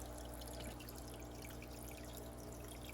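Water is poured into a fish bag during a fish unboxing, a faint steady trickling and splashing under a constant background hum.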